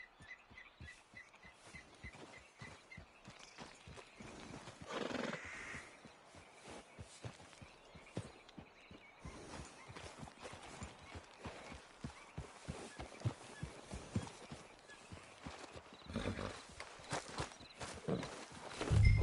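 Hooves of a horse in the Red Dead Redemption 2 video game thud in a steady walking rhythm throughout, moderately close, with faint ambient background and no clear neigh.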